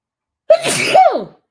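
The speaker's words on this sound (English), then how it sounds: "Gotta sneeze again." A single loud, close sneeze with a sharp intake and explosive burst, lasting under a second, with no talking around it.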